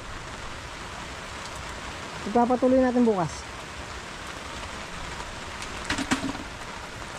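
Steady rain falls in a continuous even hiss at a hut repair site, with a person speaking briefly over it and a few faint voiced sounds later.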